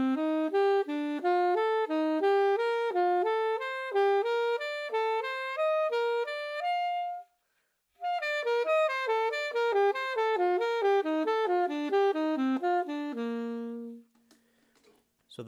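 Diatonic triads arpeggiated on a single-note instrument, a steady stream of clean, evenly spaced notes climbing and falling through the scale, pausing briefly midway, then continuing and ending on a held note.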